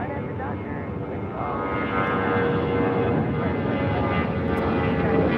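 A Delta heavy jet airliner takes off from runway 25 right at LAX, a continuous loud roar of engines filling the scene and building steadily, with a radio voice faintly over it.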